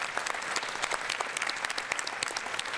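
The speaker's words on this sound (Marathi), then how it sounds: "तेव्हा एकदा जोरदार टाळ्या." Studio audience at a Marathi television comedy show claps for a guest, a steady crackle of many hands applauding together, moderately loud and continuous with no voices.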